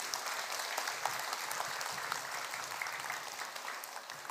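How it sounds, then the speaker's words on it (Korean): An audience at a Buddhist dharma lecture gives warm, sustained applause. Many hands clap densely and steadily the whole time, with no talk over it. "박수 한번 주시기 바랍니다."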